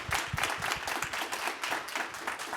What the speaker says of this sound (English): Can we get our panelists a round of applause